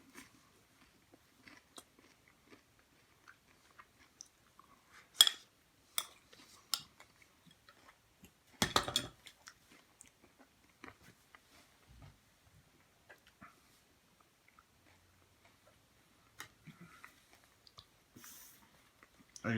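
Walking tacos being eaten with cutlery at a table: faint scattered clicks and scrapes of utensils, soft crunchy bites and quiet chewing, close and sparse, with no talk.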